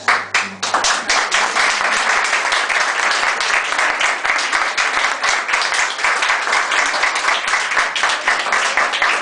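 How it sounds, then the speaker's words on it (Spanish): Audience applause at a Spanish book presentation, loud sustained clapping from a room full of people that runs steadily throughout with dense overlapping hand claps. "Pues Nuria, tienes aplausos."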